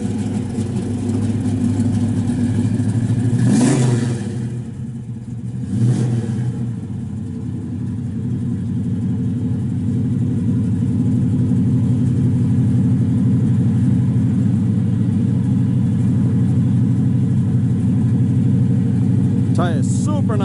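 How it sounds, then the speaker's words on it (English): A 1967 Chevrolet Chevelle SS 396 four-speed muscle car with a performance cam rumbles loudly through its exhaust, with a couple of brief revs early on before settling back into a steady, close idle. "Sounds real good off the exhaust."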